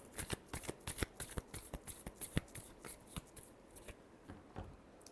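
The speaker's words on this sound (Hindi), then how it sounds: "Last shuffle." Tarot cards are shuffled close by in a quick run of crisp riffling flutters and taps, about a dozen sharp bursts in rapid rhythm with no talking.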